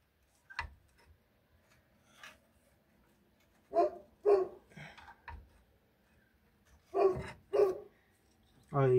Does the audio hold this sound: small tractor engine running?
no